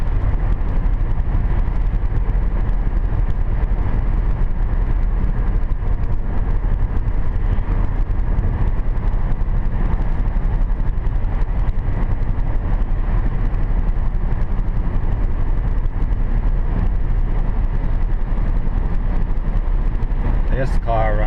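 A 2010 Hyundai Sonata V6 cruising at steady highway speed on a wet, rain-slick road, with a constant loud low rumble of engine and tyre noise and hiss filling the cabin, unbroken for the whole stretch.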